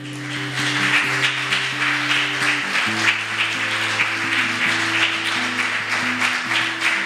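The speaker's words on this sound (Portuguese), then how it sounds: "Quem pode aplaudir o Senhor?" A church congregation claps together, a broad wash of applause running steadily beneath sustained music throughout.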